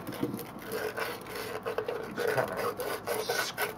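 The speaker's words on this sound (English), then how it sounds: "give that a little bit of a sand" A 3D printed snowblower part is sanded by hand, giving a quiet, close rasping scrape in quick repeated strokes against a faint background.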